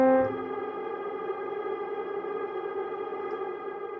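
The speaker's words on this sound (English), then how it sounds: "if you click this button, you actually freeze the input." The K-Devices Magma effect app on an iOS device freezes the incoming sound, and a struck tone turns into a sustained, unchanging drone that holds steady for several seconds.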